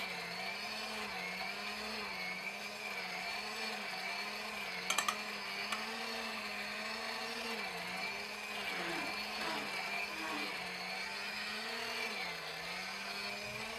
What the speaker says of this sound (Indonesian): Gunakan mixer dengan speed rendah terlebih dahulu ya teman-teman. Kemudian naikkan speednya dan mixer sampai kalis elastis.